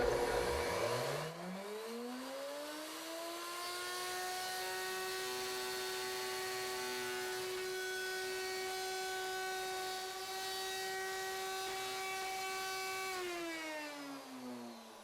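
A plunge router spins up and cuts a tenon on a guitar neck, its steady high whine rising at the start, holding level for about eleven seconds, then winding down near the end.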